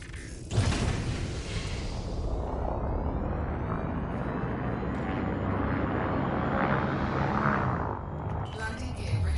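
A spaceship lifting off in the Elite Dangerous video game, a loud sustained engine roar with mechanical creaks and groans as the landing gear retracts.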